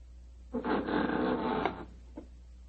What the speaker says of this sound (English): There goes the front door.